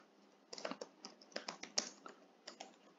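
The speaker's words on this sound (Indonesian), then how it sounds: "saya ketik sembarang aja ya dulu" Someone types on a computer keyboard in quick irregular bursts of crisp clicks, close and fairly quiet, with short pauses between runs of keystrokes and a louder knock at the end; no one speaks.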